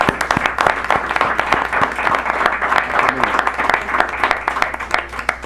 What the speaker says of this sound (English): It's appropriate to give an applause to these guys.